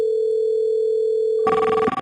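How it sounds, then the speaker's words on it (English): A phone line tone from a call-center telephone test holds steady and loud, then gives way to a different ringing signal near the end. "It is ringing this phone."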